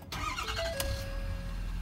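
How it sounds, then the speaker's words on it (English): A 2011 Ford F-250 Lariat with stock exhaust fires up, heard through an open door: a brief starter crank, then the engine catches and settles into a quiet, steady idle. "I'm gonna leave the door open while I start it just so you can hear it."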